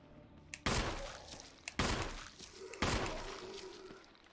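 Three loud in-game gunshots from Resident Evil REmake, fired at an enemy roughly a second apart, each a sharp blast trailing off into a long echoing decay over a low background hum, with no talking.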